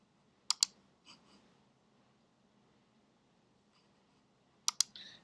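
A computer mouse is clicked while navigating a classroom reading program on screen. A sharp double click comes early, then a softer tap, a long near-silent pause, and another crisp double click near the end.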